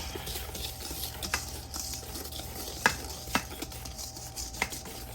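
Apple cinnamon muffin batter being mixed with the dry ingredients in a bowl, quiet irregular taps and scrapes of a utensil over a low steady background hum.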